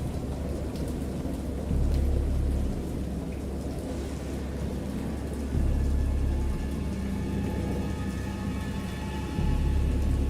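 A storm in the Dagon video game: steady rain hissing throughout, with low rumbling thunder swelling in several long waves beneath it.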